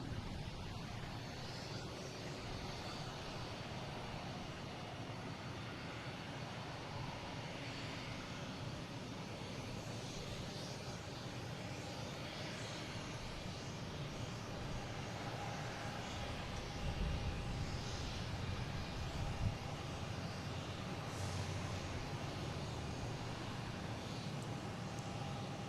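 An American Airlines A319 from Philadelphia lands at Boston Logan, a continuous far-off jet engine drone that swells a little near the end, with no speech.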